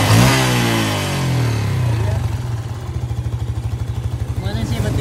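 A motorcycle engine runs with no battery fitted while a regulator fault is checked. It gives a loud, close revving burst that settles into a steady, pulsing idle.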